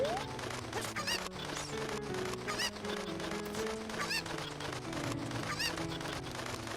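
A cucco chicken in a Zelda 64 game clucks and squawks in repeated short bursts over continuous game music.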